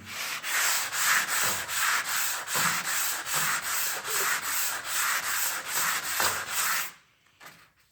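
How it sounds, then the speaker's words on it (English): Steady, rhythmic scraping of sandpaper rubbing back and forth over a wall during final sanding, loud and close, stopping near the end. "you're just sanding it smooth at this point in time"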